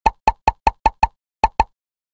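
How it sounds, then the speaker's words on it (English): Eight bright bubble pops in a toddler number-learning game, six in a quick even run and then two more after a short pause, crisp and close with no talk. "Tap on the bubbles."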